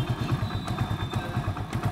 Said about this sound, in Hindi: पहले बाइक को भी स्टार्ट कर लेते हैं।